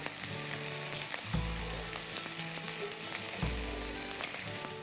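A single steak sears in a pan with a knob of butter, giving a close, continuous crackling sizzle broken by a couple of low thumps, with no talking.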